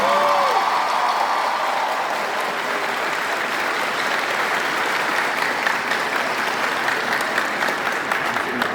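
Sustained, steady applause from a large audience, a dense and even roar of clapping that holds for several seconds after a speech.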